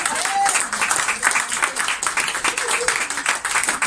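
Church congregation applauding in worship: dense, fairly loud clapping from many hands, with uneven pulses and a voice briefly audible over the applause.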